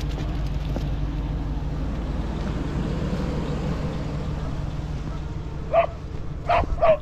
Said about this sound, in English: They're gonna know you're coming if you keep barking.